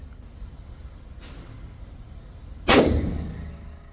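An Omni Hybrid rifle fires a single sharp, loud shot outdoors, its report decaying over about a second, preceded by a faint click and low background rumble.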